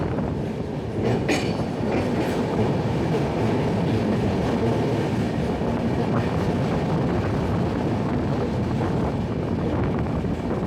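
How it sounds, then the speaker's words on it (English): The Telangana Express train rumbles steadily along the tracks from Hyderabad with a continuous loud roar and faint rhythmic clatter, heard up close. "The train has started."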